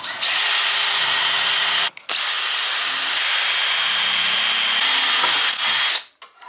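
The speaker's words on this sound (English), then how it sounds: "So you're going to drill 4 holes in the corner" Power drill boring holes through tough solid teak wood, a loud steady whine held for about two seconds, a brief pause, then another long continuous run before cutting off at the end.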